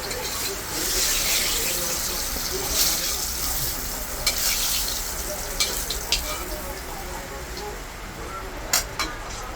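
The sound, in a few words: fish frying in oil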